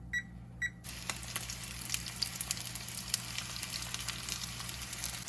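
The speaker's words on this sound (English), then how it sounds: "More frying in the pan" Breaded pierogies sizzle in oil in a frying pan, a steady close crackling hiss with scattered pops throughout, after a couple of brief beeps at the start.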